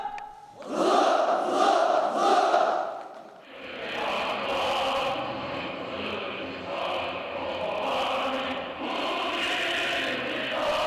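A large crowd of young people at a rally roars slogans in unison, a few loud rhythmic shouted bursts followed by a sustained mass of chanting voices with brief swells.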